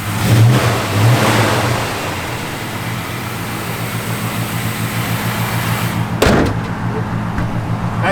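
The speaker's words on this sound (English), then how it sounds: "Give a little rev on." Engine of a 1972 Dodge Demon running steadily, loud and close, with a strong low rumble that swells slightly at the start, and a brief sharp knock near the end.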